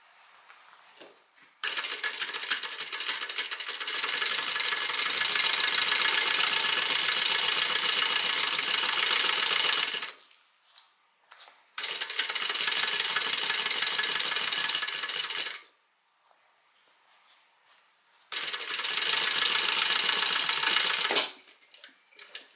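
A sewing machine stitching a canvas tote bag, running in three long steady whirring bursts with short quiet pauses between them.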